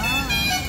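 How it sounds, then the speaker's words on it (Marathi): A bus horn honks in a sustained, loud tonal blare during a rainy road journey toward Mumbai, heard close from on board over road noise. "मस्त वाटते हॉर्न असं आहे"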